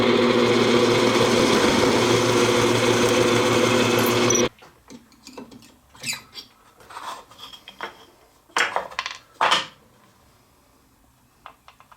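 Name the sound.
cutting wooden plugs with a power tool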